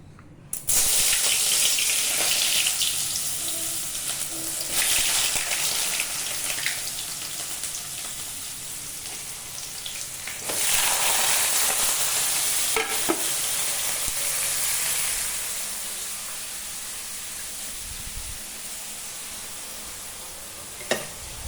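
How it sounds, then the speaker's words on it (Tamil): Onion, tomato and green chili fry in oil for a crab masala, a steady broadband sizzle with occasional stirring scrapes and clicks, close and continuous throughout. "வெங்காயம் தக்காளி பச்சை மிளகாய் இதை போட்டு வதக்குறோம் எண்ணெயில்"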